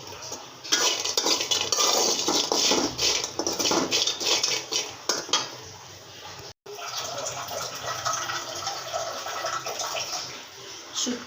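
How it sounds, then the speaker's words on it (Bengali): Dried lotka fish frying in a pan, with a spatula scraping and clattering against the metal under a steady sizzle, continuous and close, with a brief pause near the middle. "আমি এখানে লটকা শুটকিগুলো ভেজে নিচ্ছি।"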